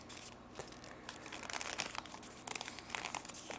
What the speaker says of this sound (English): Fold it over to get it good and parallel